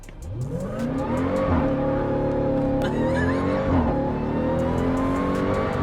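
A Jeep Trackhawk's engine revs hard as its wheels spin on a downhill slope, rising whining pitch sweeps climbing and falling over several seconds, loud and close with a brief tire squeal.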